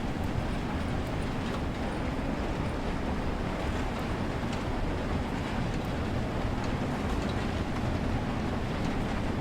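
Steam train running in the video game Train Sim World 3, a steady broadband rumble of wheels and motion that holds evenly throughout and sits fairly quietly in the mix, with no voices.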